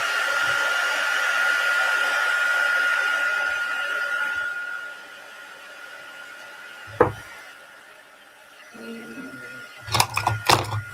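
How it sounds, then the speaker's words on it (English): Heat tool drying ink on a stamped card: a steady blowing whir with a high tonal whine for several seconds, then cutting off, followed by a sharp knock and a few clattering handling sounds near the end. "And bring the heat tool in."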